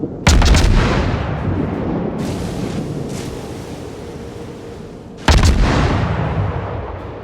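Heavy naval guns boom in a World of Warships ranked battle, with two loud, deep blasts about five seconds apart, each trailing off into a long rumbling decay over sea and wind noise, with no talking.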